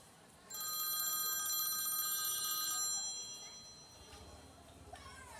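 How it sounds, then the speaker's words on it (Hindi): A telephone rings in a few bright, repeated electronic trills that stop after about two seconds, fairly quiet in a room with faint background murmur. "वह फोन किसका बज रहा है ये?"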